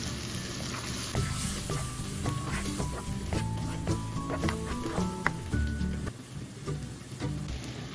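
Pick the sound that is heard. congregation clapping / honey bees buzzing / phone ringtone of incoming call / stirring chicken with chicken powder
stirring chicken with chicken powder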